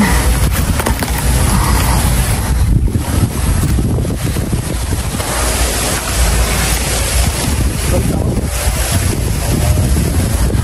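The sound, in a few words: wind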